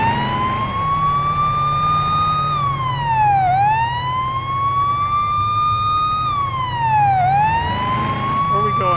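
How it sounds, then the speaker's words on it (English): A police car siren in the game Police Simulator: Patrol Officers rises and falls in long sweeping cycles, loud and steady over a low rumbling background, with no talking. "Siren."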